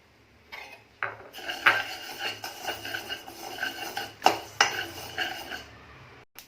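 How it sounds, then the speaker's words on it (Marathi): A spoon scraping and rattling against a pan as millet grains are dry-roasted, in irregular strokes of moderate loudness, close up and with no talk. "पूर्ण भाजेपर्यंत जरा ढवळत राहायचं आहे"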